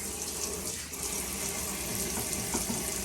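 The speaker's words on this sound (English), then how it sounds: "the next thing you want to do is you want to wash your hands" A sink tap runs for hand washing, giving a steady, even rush of flowing water throughout with no talking.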